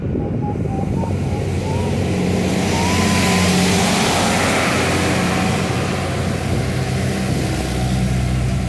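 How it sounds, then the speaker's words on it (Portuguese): A car sweeps close past on a São Paulo street beside the curb, its engine and tyre roar swelling to a loud peak midway then fading into steady traffic noise. "O carro já tira um fino na tua perna."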